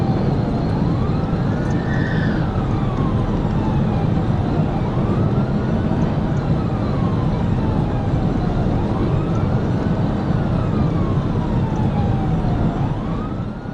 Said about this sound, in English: You've had your lights, your sirens activated.